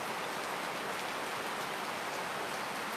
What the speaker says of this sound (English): I'm glad you guys can hear us throughout the rain